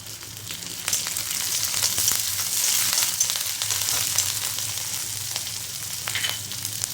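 Tempering of oil sizzles in a large pot while fried poha chivda is being made. The frying hiss is steady and close, with scattered crackles and pops and no speech.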